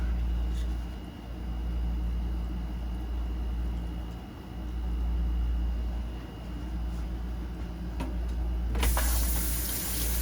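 Hands being washed under a running kitchen tap, a steady close rush of water with low rumbling, which grows brighter and louder near the end.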